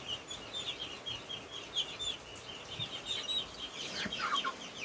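Chickens clucking and pecking around an emptied feed trough in a farmyard, soft scattered calls at close range with no one speaking.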